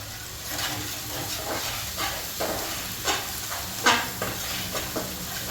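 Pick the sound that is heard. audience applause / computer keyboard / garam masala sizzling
garam masala sizzling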